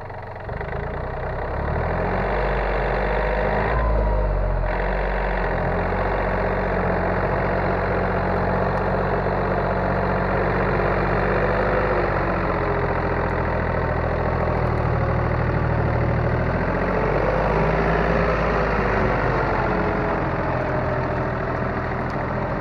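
A Yanmar AF-326 tractor runs with a 1.7 m rotary tiller, its engine holding a loud, steady, close chugging drone with a faint knock throughout and no voices.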